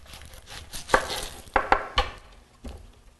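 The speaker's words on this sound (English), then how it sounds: "But we're going to cut our onion so we can get our onion rings." Knife chopping through an onion on a board for onion rings, a handful of distinct close cuts in an irregular rhythm, with quiet gaps between strokes.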